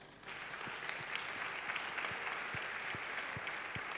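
A church congregation at a Sunday worship service applauds and acclaims Jesus Christ, with steady, dense clapping sustained for several seconds. A few sharper, rhythmic thumps stand out within the applause, heard at moderate distance in a reverberant hall.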